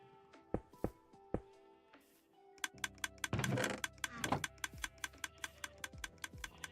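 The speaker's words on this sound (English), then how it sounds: "That's the dropper making that sound?" Minecraft dropper blocks in a video game click repeatedly, giving a fast, steady run of sharp, loud mechanical ticks with a brief burst of rattling clatter partway through.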